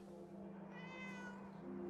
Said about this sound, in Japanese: にゃーんの声がした。